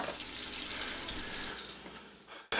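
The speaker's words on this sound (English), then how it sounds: "And now I'm going to wash my ground beef. I'm going to wash my white rice." Tap water runs steadily into a sink while ground beef and white rice are washed, a continuous broad hiss filling the clip up close before cutting off abruptly near the end.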